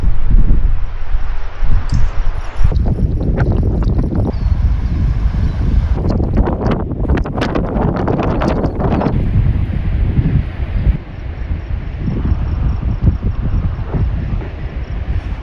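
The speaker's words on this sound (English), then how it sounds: "The wind is picking up." Strong wind picking up before a thunderstorm at a campsite: loud, steady gusts buffet the microphone throughout, swelling into harsher roaring bursts midway and then easing back to a constant rushing.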